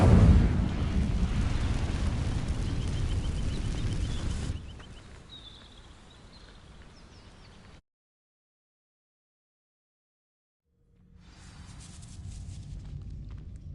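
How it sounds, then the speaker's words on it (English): Incendio fire spell igniting dry vines in the Hogwarts Legacy video game: a loud, roaring whoosh of flame for about four seconds, then a quieter crackling tail that fades to silence before faint ambience returns. "These dry vines are one spark away from becoming kindling. Incendio!"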